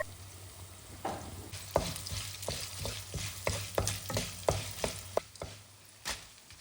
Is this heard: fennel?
yes